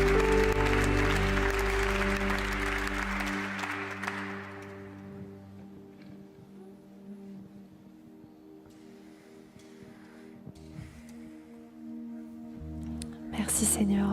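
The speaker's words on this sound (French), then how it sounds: "Est-ce qu'on peut avoir un tonnerre d'applaudissements pour notre Seigneur" At an evening church gathering, a congregation gives a burst of clapping that fades after a few seconds, leaving quieter room sound, soft murmuring and sustained tones, with a brief louder sound near the end.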